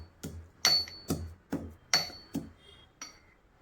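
Garlic cloves being crushed, about seven sharp, separate knocks spaced roughly half a second apart, close and fairly quiet, with a bright clinking edge like metal or stone striking a hard surface.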